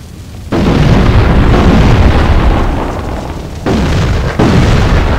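Rumbling explosions in The Thing video game, a loud continuous roar of blasts that swells, dips slightly, then jumps up again with two fresh bursts near the end, with no talking.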